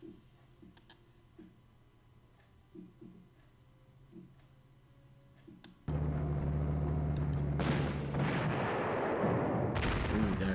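Cannon fire in the video game Panzer Corps sounds as a sudden loud booming blast with a long rumbling tail, following a stretch of quiet rhythmic clicking.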